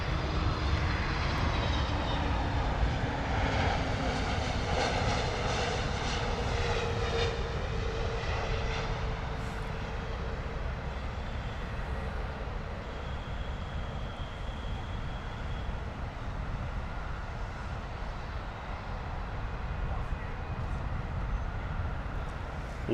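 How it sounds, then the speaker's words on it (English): An Aer Lingus Airbus A320neo lands at London Heathrow, its engines passing close with a strong roar and a sweeping, wavering whine that peaks early and then fades into a lower, steadier rumble. "Aer Lingus coming in, A320neo."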